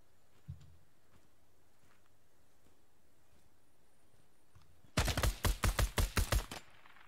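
Ground Branch tactical shooter gunfire: after a single faint distant shot early on and a long quiet stretch, a loud close burst of about eight rapid, evenly spaced rifle shots rings out alone.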